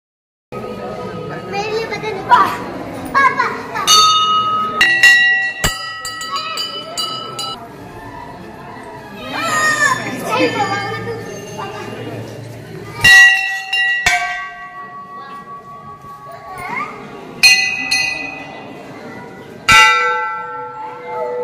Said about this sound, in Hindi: मैं घंटी बजा रही